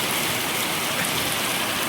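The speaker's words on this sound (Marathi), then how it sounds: "आमच्या गावात याला पाऊस किती जोरात पाऊस आला" Heavy rain pours down on a village during the first monsoon downpour, a dense, steady hiss that stays loud and unbroken throughout, with no voices.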